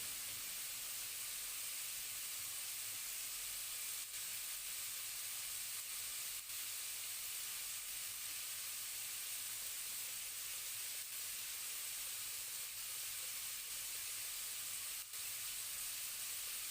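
Floured chicken popcorn fries in hot oil, giving a steady, even hiss and sizzle that continues with no break for the whole stretch and no one talking.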